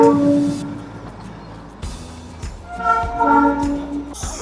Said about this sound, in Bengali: ওয়েট করছিলাম কখন বাতাসিয়া লুপে টয় ট্রেনটা ঢুকবে, আর এখন ঢুকছে।